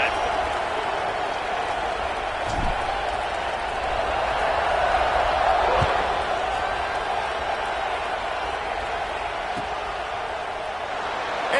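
A large football stadium crowd in a game against Georgia roars in a steady, dense wall of cheering and applause, with occasional thumps and a voice mixed into the din.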